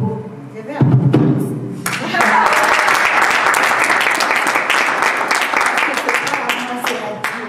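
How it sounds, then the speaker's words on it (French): Church congregation applauding after a French-language sermon, a dense sustained wash of many hands clapping from about two seconds on, preceded by a few thumps and brief voices. "Je vais applaudir."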